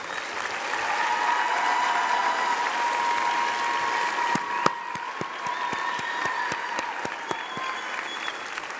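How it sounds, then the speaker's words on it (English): A commencement ceremony audience claps in sustained, dense applause, loud and even throughout, with a few sharper individual claps standing out near the end. "Audience, please join me in applauding their efforts."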